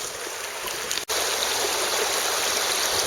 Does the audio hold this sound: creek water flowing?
yes